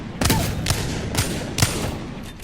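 Wingman pistol hip fire in Apex Legends: four sharp, evenly spaced gunshots about half a second apart, loud and close, with a steady game ambience underneath.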